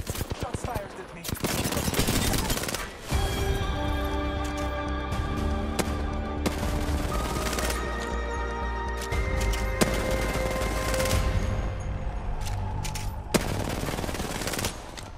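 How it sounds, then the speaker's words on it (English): Gunfire in a shooter video game, with rapid automatic bursts rattling loudly for long stretches, broken by brief pauses and sharper single blasts, alongside game tones. "Shots fired at me."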